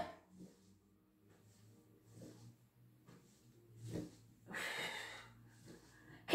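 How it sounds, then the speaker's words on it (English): Heavy breaths and snorting exhales during an ab workout, coming in a few scattered bursts, with one longer, louder breath out near the end; otherwise quiet, with no talking. "Getting that oxygen in as you go down and then breathe out"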